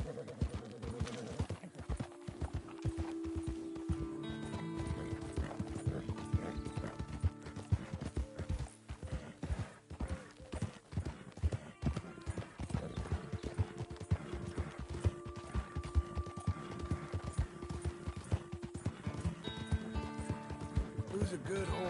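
Rhythmic hoofbeats clatter steadily over a dense Red Dead Redemption 2 soundtrack, with an occasional whinny and some talking layered on top.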